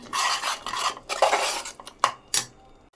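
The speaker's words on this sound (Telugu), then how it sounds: "ఇవన్నీ కూడా బాగా కలిపి కొంచెం వేగనిద్దాము." A spoon scrapes and clinks around a pan, stirring mutton nalli bones curry with ground coconut, cashew and poppy seed paste, in uneven rasping strokes with a few sharp metallic taps near the end.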